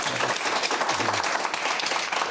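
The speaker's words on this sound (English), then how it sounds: "Oh, you get a round of applause now." Debate audience applause, a dense, loud burst of many hands clapping that continues steadily throughout without speech.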